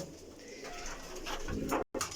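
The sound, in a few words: pigeons cooing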